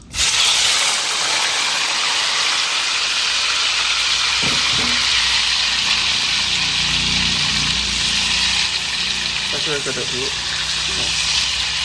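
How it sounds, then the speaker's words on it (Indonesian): Eggs frying in hot oil crackle and sizzle loudly and steadily, with a few clinks of a utensil against the pan partway through. "Kita goreng dulu telurnya."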